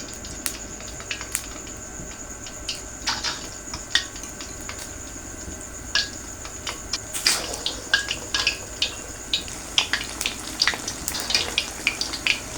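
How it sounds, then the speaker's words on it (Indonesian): Oil sizzles and crackles steadily as egg-coated sempol fries, with sharp pops and spatters growing more frequent toward the end. "Siapkan wajan isi minyak, siapkan telur ya. Tuh. Ini udah siap kita goreng."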